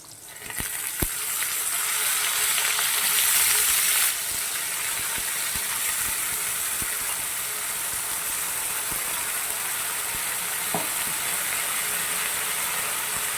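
Steady broadband hiss of long beans and ridge gourd sizzling in a hot pan, louder for the first few seconds then settling into a constant frying sound with faint clinks.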